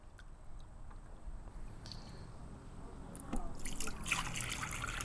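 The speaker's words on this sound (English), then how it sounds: "this is the Rainmaker, and it's going to dole out the water as quickly here as it will in some of the future rain events" Water from a rain simulator trickles and spatters steadily onto a floodplain model, a soft continuous wash that grows denser and louder toward the end, with no talk.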